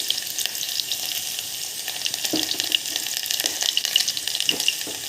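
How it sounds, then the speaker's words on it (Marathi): Chopped onion frying in hot oil in a cooking pot, a steady bright sizzle with crackling pops, fairly faint and continuous, with no talking. "आता त्यामध्ये एक छोटा कांदा टाकते कापलेला"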